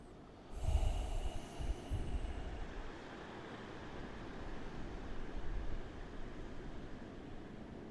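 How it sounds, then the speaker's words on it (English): During a yoga session, someone holding a lunge takes quiet, deep, full breaths: one or two soft, breathy inhales and exhales early on, then faint steady airy noise. "Deep, full rounds of breath."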